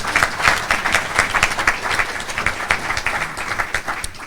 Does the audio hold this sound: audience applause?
yes